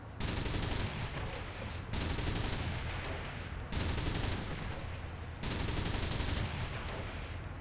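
A ZSU-23-4 anti-aircraft autocannon in the War Thunder video game fires four long, loud, sustained bursts of rapid shots, each separated by a short pause.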